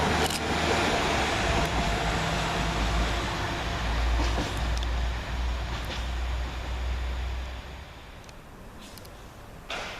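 A West Midlands Railway diesel multiple unit train, two Class 172 units, rumbles past close by at Hall Green station, a loud broad roar with a low engine drone that eases off toward the end.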